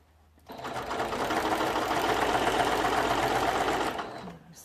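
A sewing machine fitted with a walking foot stitches through thick quilt layers, a steady rapid whirring run of about three and a half seconds that starts and stops cleanly.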